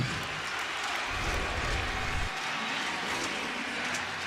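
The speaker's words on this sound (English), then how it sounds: "You can listen to the roar of the crowd." A baseball stadium crowd at a Nationals–Giants game roars after a base hit. A steady, broad wash of cheering and applause sustains throughout, moderately distant and fairly even in level.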